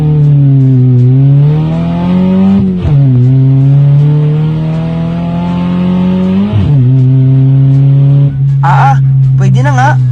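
The turbocharged 4G93 engine of a Mitsubishi Lancer race car revs hard and close, its pitch climbing and dropping through repeated throttle blips with sharp breaks between, and a voice comes in briefly near the end.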